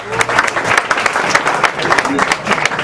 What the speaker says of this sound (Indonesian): Tepuk tangan untuk Omah Munir